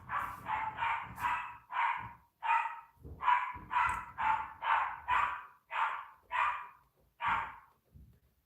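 A dog barking wildly outside, a rapid series of about fifteen loud, sharp barks in uneven bursts with brief pauses, sounding somewhat distant and echoing.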